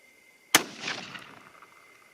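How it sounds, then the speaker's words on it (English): A single sharp .243 Winchester rifle shot firing a 70-grain bullet, loud and close, with a rolling echo that decays over about a second and a half; no talking. "3rd and final shot"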